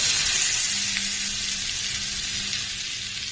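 Hot tempering with garlic being poured and mixed into bitter gourd pickle gives a steady, close sizzle and crackle that runs the whole time with no talk over it.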